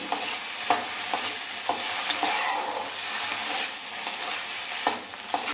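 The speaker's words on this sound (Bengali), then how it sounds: "দিয়ে একটু হাই ফ্লেমে একটু ঘন ঘন নাড়াচাড়া করে নিতে হবে।" Food sizzles in a pan over a high flame while a spoon stirs it often, with frequent scraping strokes over a constant loud frying hiss.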